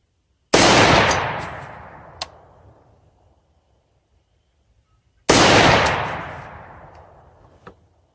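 Two loud, sharp gunshots from a Diamondback DB15 6.5 Grendel rifle, several seconds apart, each with a long echoing decay across an open outdoor range and a small follow-up knock.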